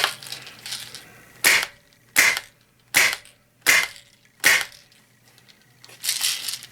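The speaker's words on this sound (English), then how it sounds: "we'll go with single shot first, in the up position, safety off, cock it" An Umarex Steel Storm CO2 BB pistol fires five sharp single shots at roughly even intervals, close and loud, with quieter handling noises between them.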